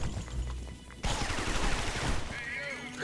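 Gunfire in the video game Guns, Gore & Cannoli 2 comes as rapid bursts of shots and crashes, dense and fairly loud, with game noise and some voices mixed in.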